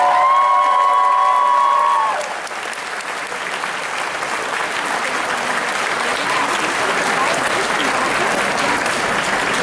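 A graduation crowd applauds and cheers the Richmond Secondary School class of 2016, a broad sustained roar of clapping and voices following a brief tonal sound at the start, filling the hall loudly and evenly to the end.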